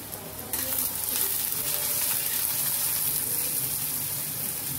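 Chana dal and leafy greens being sautéed together in a pan, a loud, continuous frying sizzle that jumps up after a brief quieter start and holds steady with faint stirring scrapes, no voices.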